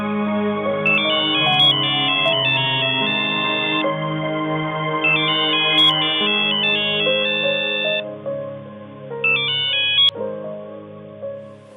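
A mobile phone rings with an electronic melodic ringtone that plays a bright, repeating tune, clear and steady for about twelve seconds with no voices.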